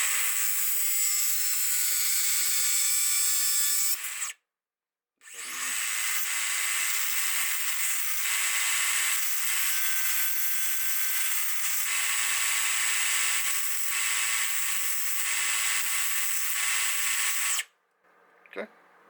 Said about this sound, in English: If you can use your grinder with an attachment, I'm just going to use this one because it's super easy to use.